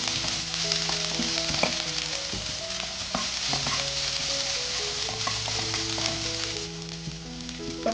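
Sliced onions and curry leaves sauté in a pan for a Kerala beef milk curry, giving a steady, close sizzle and crackle with light scraping and stirring throughout, and no talking.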